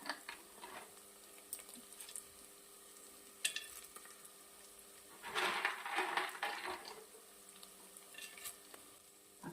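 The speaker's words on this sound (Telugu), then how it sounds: "దీనిలోనే కొద్దిగా జీడిపప్పు కూడా వేసి 1 నిమిషం పాటు ఫ్రై చేసుకోవాలి" Cashew nuts frying in a pan with green chillies, ginger, garlic and curry leaves, a soft steady sizzle broken by louder bursts of stirring and the clink of a spoon against the pan.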